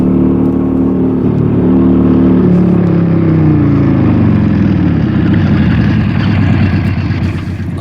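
Motorcycle engine running close by, a loud steady drone with shifting revs that rise and fall throughout, with no talk over it.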